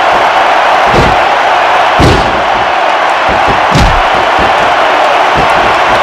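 A packed arena crowd roars continuously at a WWE battle royal, with loud slams and thuds from the ring cutting through the steady cheering.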